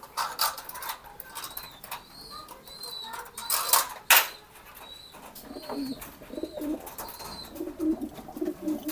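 Soft pigeon coos repeat in short phrases over a noisy background, with a sharp burst of noise midway through.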